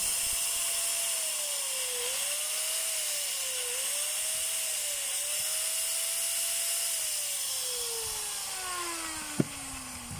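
A Stanley angle grinder runs steadily after a carbon brush replacement, its high motor whine wavering slightly, then winding down toward the end, close and alone with a brief click near the finish.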